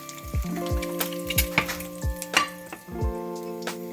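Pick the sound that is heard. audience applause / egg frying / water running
egg frying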